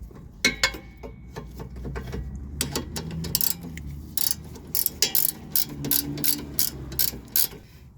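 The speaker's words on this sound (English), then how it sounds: "Now use the ratchet to give this final snug down" A ratchet tightening the front sway bar link nut on a 2012-2017 Toyota Camry: rapid metallic clicking in several close bursts with short pauses between strokes, with no talk.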